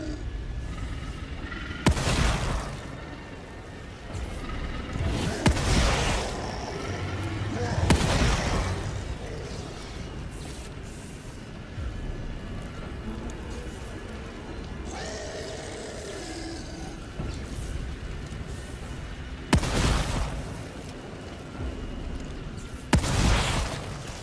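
Several sharp, loud gunshot bursts in the video game The Evil Within 2 ring out at irregular intervals, with a low rumbling game soundtrack and faint voices between them.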